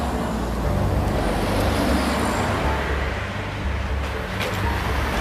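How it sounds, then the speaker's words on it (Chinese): Road traffic of cars and heavy trucks, a steady, loud roadside rumble and whoosh of passing vehicles that fills the whole stretch, with no talking. "这里确实很多车子的声音。"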